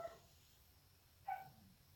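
A dog gives two short, faint barks about a second apart, heard indoors with a quiet background and no voices.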